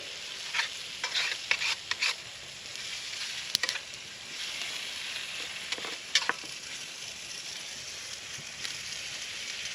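Jalapenos frying in bacon grease in a cold-handled cast skillet outdoors, a steady close sizzle with scattered crackles and pops, no talking.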